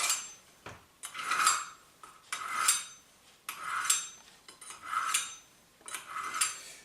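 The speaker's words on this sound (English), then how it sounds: "You can hear the change in the sound as the knife sharpens." A knife is drawn through a convenience sharpener with two angled steels. About six rhythmic metallic scraping strokes ring out close by, with no talking.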